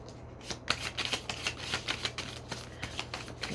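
Deck of tarot cards being shuffled by hand at close range, a quiet run of soft papery riffles and slaps in a quick irregular rhythm, with no talk.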